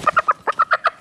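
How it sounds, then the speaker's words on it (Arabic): A chicken clucks in a quick, even run of about eight sharp, close clucks, with no talking over them. "روح اتبع الفروج."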